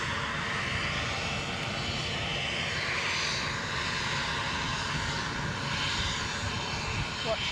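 An inbound British Airways airliner at Edinburgh makes a steady, moderately loud engine rumble that holds through the whole stretch, with faint voices mixed in beneath it.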